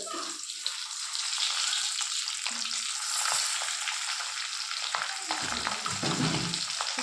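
Eggs coated with salt and turmeric frying in a pan, giving a steady bright sizzle with occasional crackles and stirring sounds, close and fairly quiet, with no talk over it.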